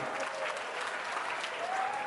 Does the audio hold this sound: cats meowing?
no